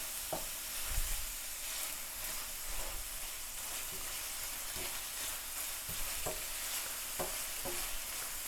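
Ginger garlic paste being sautéed with onions in a pan for a chapati kurma: a soft, steady sizzle with periodic stirring taps and scrapes, fairly quiet and heard alone.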